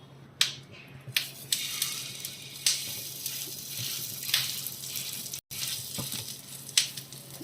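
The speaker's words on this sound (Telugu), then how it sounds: "ఇలా వేసేసుకొని ఫ్రై చేసుకోవాలండి" Pomfret fish fries in oil on a pan, a soft continuous sizzle broken by sharp spatters and pops, close and steady with no talking.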